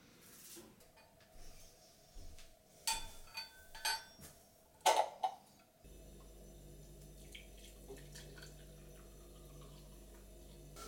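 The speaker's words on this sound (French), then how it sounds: "Je vais faire tremper mes affaires de remise." Water running into a sink to soak running clothes in a hotel room the night before the Berlin marathon, preceded by clinks and handling noises, then a steady close rush of flowing water.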